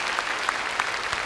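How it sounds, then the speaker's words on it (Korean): Brief burst of congregational applause at a Korean church dawn prayer service, a steady patter of many hands clapping together for just over a second. "우리 하나님께 감사의 박수 보냅니다."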